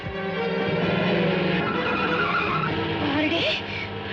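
Cars in a high-speed chase produce a loud, continuous tire squeal and skidding over roaring engines, sustained throughout and easing slightly near the end.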